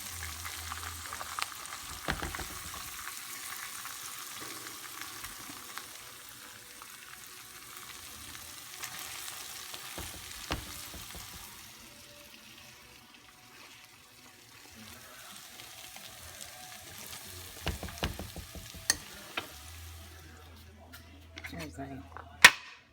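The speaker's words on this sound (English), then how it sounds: "So brown them on each side a couple minutes." Chicken cutlets browning in a frying pan for chicken Marsala produce a soft, fairly faint sizzle with occasional clatters, pops and water sounds, while someone talks intermittently over it.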